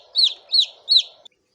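Newly hatched chicks in an incubator give three clear, close peeping chirps in a quick even rhythm, followed by a short clipped fourth peep and then silence.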